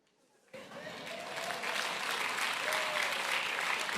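A church congregation at a Friday night prayer service breaking into applause, clapping starting abruptly and swelling into steady, fairly loud sustained clapping from many hands.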